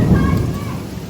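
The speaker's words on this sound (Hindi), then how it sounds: "ये देख ओले गिर रहे हैं" Hailstorm with heavy rain and thunder over a park, a dense continuous roar of falling hail and rain with low rumbling, loud and close throughout, with faint voices underneath.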